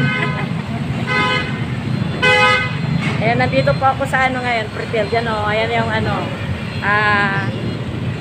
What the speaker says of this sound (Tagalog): Traffic siya ngayon.